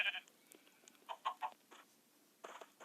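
Several short, faint sheep bleats from the Minecraft video game come in scattered bursts over a quiet background, with one sharper call at the very end.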